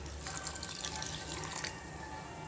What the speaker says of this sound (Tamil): இதில் கொஞ்சமாக தண்ணி சேர்த்துக்கலாம்